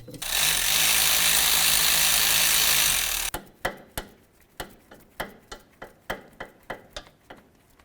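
A ratchet snugs water pump bolts on a 2007-12 Nissan Sentra: a loud steady rushing noise runs for three seconds, then about a dozen crisp clicks of the pawl follow in an even rhythm, close up.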